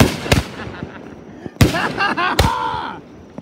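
Fireworks burst at a belated birthday firework show, three sharp booms a second or so apart, the last two followed by crackling tails, with excited voices cheering faintly between blasts.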